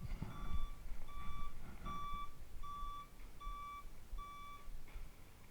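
A vehicle's reversing alarm beeps in a steady repeating pattern, about seven tones, over a low rumbling engine outdoors.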